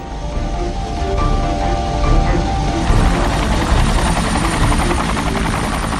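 A loud helicopter drones steadily, its rotor chop pulsing close by and growing fuller after the first few seconds, with no voices.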